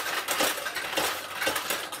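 Metal balls clatter and rattle down through a Nishijin Model A pachinko machine, a busy close stream of small clinks and chinks with denser bursts every half second or so, and no voices.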